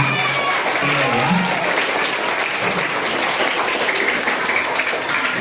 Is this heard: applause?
yes